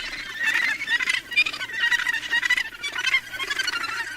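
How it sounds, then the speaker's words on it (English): A massive gannet colony at Cape Kidnappers in Hawke's Bay, New Zealand, gives off dense, overlapping honking and squawking calls that carry on steadily without any voices. "It's home to a massive colony of gannet birds."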